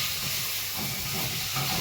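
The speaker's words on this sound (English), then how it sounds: "this is sizzling away nicely" Food sizzles steadily in a hot pan as chili powder waits to be added, a dense, even hiss that stays constant throughout with no voices.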